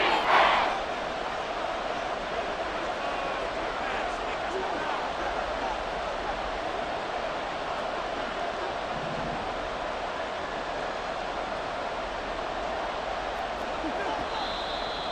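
Stadium crowd noise in Madden NFL 24 during a football game: a steady, dense roar throughout, with a brief louder swell at the very start.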